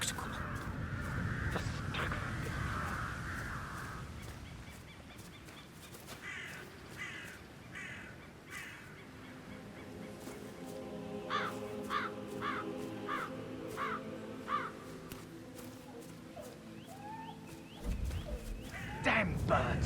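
Crows cawing repeatedly in Hitman 3, a string of harsh, evenly spaced calls from mid-distance over soft background ambience, with a low voice muttering near the end.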